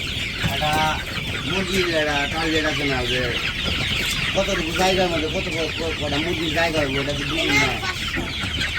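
A crowded coop of about 500 chickens fills with dense, overlapping clucks and warbling calls from many birds at once. The sound is close and loud, with a busy, continuous chorus throughout.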